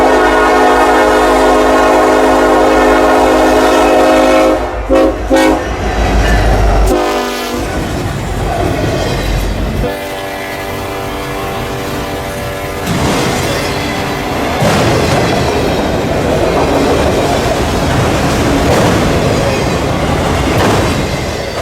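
A Norfolk Southern freight train on the Detroit line passes near Trilight signals, its horn blaring loudly for several seconds before the steady rumble and clatter of cars rolling by continues.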